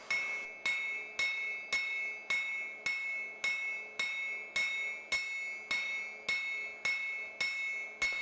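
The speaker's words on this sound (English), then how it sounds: "You can tell how tough the steel is by how heavily I'm having to hit it." Hammer striking hot steel on an anvil during blacksmith forging of a flint striker, a steady series of about fourteen sharp ringing metallic blows at an even rhythm, close and clear with no talk.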